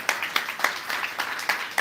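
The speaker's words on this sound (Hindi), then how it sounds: "तालियां बजाओ भाई" A small crowd claps in a quick, fairly regular rhythm at a religious gathering, soft and steady for a couple of seconds.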